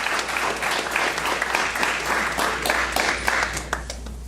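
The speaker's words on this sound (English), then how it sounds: "I've never had a clap before start" An audience in a lecture hall claps before a design talk begins, a dense sustained round of applause from many hands, fairly close, with no speech over it.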